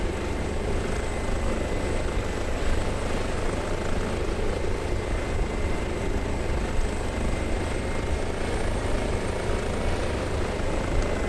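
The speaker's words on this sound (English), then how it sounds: "There's our beautiful helicopter." An H145 helicopter in Microsoft Flight Simulator, its rotor and turbine engine holding a steady, loud, dense drone throughout a hover with no voices.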